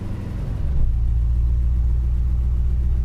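A cold-started Mercedes-Benz W126 500 SE V8 with the muffler removed idles with a low, steady rumble, then drops into a deeper, heavier drone partway through as it shifts into drive.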